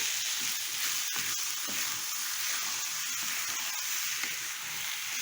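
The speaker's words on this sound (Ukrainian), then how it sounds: "Перемішую і нехай вони тушкуються." Honey mushrooms and bell pepper stewing and being stirred in a pan, giving a steady close sizzle and bubbling with faint scraping stirs and no voices.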